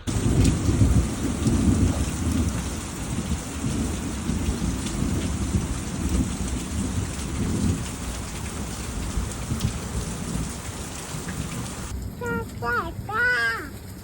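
Steady heavy rain pours down with deep rumbles of thunder and lightning rolling through during a wheat harvest, and near the end a few voices speak close by over the downpour.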